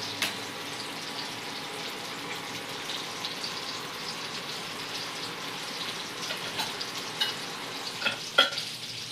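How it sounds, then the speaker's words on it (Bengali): Bitter gourd pieces boiling in a pot of water for sukto, a steady bubbling simmer heard alone at close range, with a few sharper clinks and bubble pops near the end. "উচ্ছেগুলো সেদ্ধ হচ্ছে"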